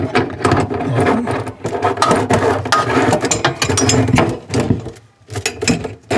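Faucet nuts against rubber gaskets being tightened beneath a utility sink, giving dense, busy ratcheting and metallic clicking that runs almost continuously and loudly, with a brief lull near the end.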